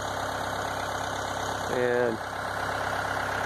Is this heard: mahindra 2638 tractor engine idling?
yes